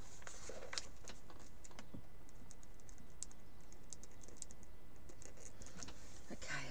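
Someone types steadily on a computer keyboard in quick, uneven clusters of soft clicks, close and fairly quiet, in a quiet room.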